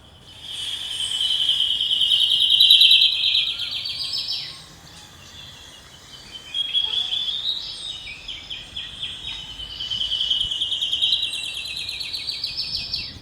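A high, thin warbler song from a wet mountain rainforest repeats in several long trilling phrases with pauses between, clear and fairly close over a quiet background.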